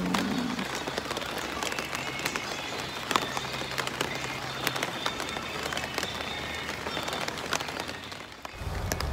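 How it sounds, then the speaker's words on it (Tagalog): Raindrops patter steadily on a tent at a family campsite in cold weather, a dense, continuous tapping close by with faint low rumbles underneath and no clear talk. "Ang sarap pakinggan yung patak ng ulan, di ba?"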